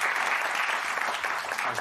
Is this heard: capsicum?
no